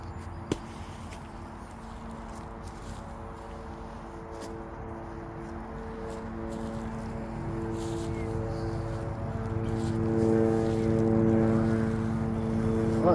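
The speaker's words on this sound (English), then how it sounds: "I don't know if that helicopter's just buzzing round and round" A helicopter drones overhead with a low rhythmic rotor chop, growing gradually louder as it approaches, with a few faint clicks and handling sounds nearby.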